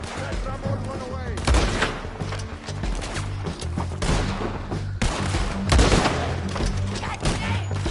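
Battle in the video game Red Dead Redemption 2: dense rifle fire and heavy booming artillery blasts crack and thump over and over, loud and close, with shouted voices mixed into the chaos.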